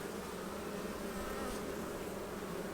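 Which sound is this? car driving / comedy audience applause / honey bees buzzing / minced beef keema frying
honey bees buzzing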